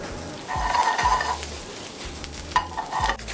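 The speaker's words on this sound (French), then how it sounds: "Vraiment les rôtir dans la poêle." Fresh porcini mushrooms with thyme, rosemary and garlic roasting in a pan, heard as a close sizzle with repeated scraping stirs and clinks of a utensil against the pan.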